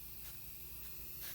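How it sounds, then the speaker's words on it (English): Short pump spray bursts mist paint onto a custom paint piece, soft hissing puffs repeated about three times, faint and close with no talk. "Okay, so now I'm just going to take this pump and spray"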